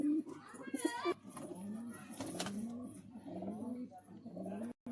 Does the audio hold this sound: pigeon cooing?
yes